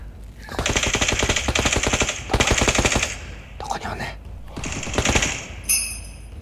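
Rapid automatic gunfire in the battle royale video game Knives Out, with loud close bursts of rattling shots, brief gaps and a final sharp crack.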